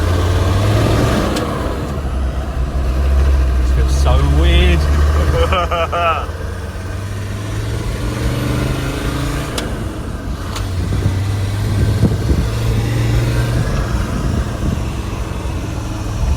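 A Land Rover Discovery 1 engine running steadily while driving, a low drone with shifts in pitch as it changes speed, heard from inside the cabin under conversation between occupants.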